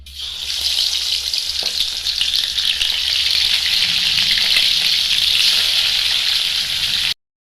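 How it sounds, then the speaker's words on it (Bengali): Tilapia pieces frying in hot oil give a loud, steady sizzle that holds evenly for about seven seconds, close up, with no voices, then cuts off. "মাছগুলো আমার একটা সাইড ভাজা হয়ে গেছে"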